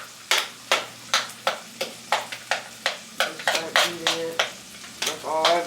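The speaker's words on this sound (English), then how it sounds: "Get my handy dandy spoon and just start beating it." Spoon beating eggs in a bowl for a high protein breakfast taco, a fast run of regular clicking strokes against the bowl that grow busier and uneven toward the end, close up with no talking.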